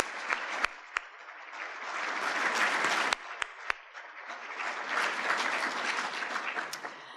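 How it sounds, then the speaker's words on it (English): Audience applause for an honored Montana State alum at a university address, a sustained crowd clapping throughout with a few sharper claps standing out near the start and middle. "Let's share a round of applause for this outstanding alum of Montana State."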